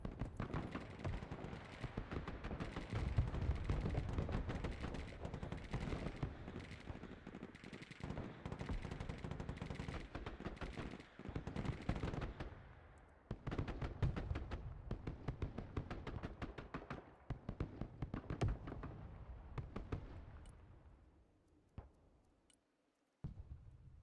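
Dense artillery and machine-gun fire in the military strategy video game Broken Arrow, a continuous rattle of rapid shots and heavy booms for about twenty seconds before thinning out into scattered distant bursts.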